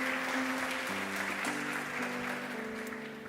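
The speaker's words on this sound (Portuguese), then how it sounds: "Você pode aplaudir a Ele nessa noite?" Church congregation applauding during an evening service, a steady broadband wash of clapping that holds loud throughout and tapers slightly at the end, with a sustained organ or keyboard chord underneath.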